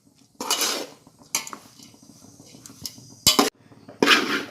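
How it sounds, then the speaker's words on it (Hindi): Dried coconut being roasted in a pan over low flame, with several sharp metallic scraping clinks of a utensil against the pan and quieter stirring between them. "अब मैं खोबरे को भी धीमे आंच पर भूनूंगी अच्छी तरीके से, थोड़ा सा गोल्डन होने तक भूनूंगी।"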